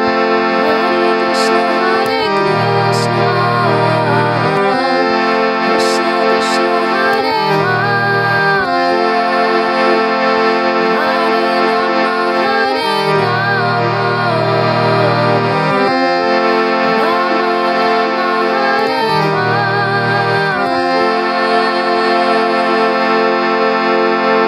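A harmonium plays a festive Hare Krishna melody in sustained chords, swelling and alternating between two chord shapes at a slow, steady pace, loud and close with no voice.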